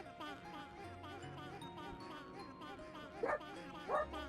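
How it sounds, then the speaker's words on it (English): A dog yips and barks twice in the background, faint behind steady video game music and effects. "Dog's popping off in the background."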